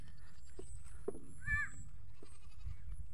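Goats kept on a hillside village farm give a short bleat among faint scattered animal sounds and quiet rustling background, fairly near.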